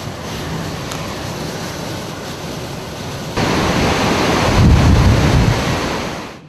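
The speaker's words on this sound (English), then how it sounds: "this storm surge is getting pretty intense now." Storm surge from the Gulf of Mexico pushes surf over Highway 90 during a hurricane, a loud continuous roar of crashing water and wind buffeting the microphone, swelling into a heavier surge midway before easing.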